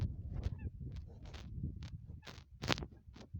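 Several short nasal honking calls from a wild duck, spaced irregularly and fairly close, with some low rumbling background noise.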